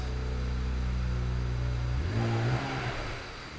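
A BMW 335i with the N54 engine, just back together after an injector replacement, idles loudly nearby and then gets a quick blip of throttle that rises and falls before settling back.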